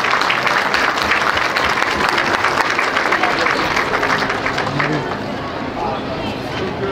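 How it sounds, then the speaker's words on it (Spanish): Loud, dense applause from a crowd for the children of Huejotzingo, sustained clapping that eases slightly toward the end. "Un fuerte aplauso para las niñas y los niños de Huejotzingo"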